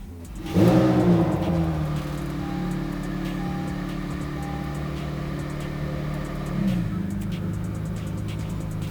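An Acura NSX hybrid fitted with catless downpipes starts with a sharp rising bark, then settles into a steady droning idle before a brief second rev, close to the car.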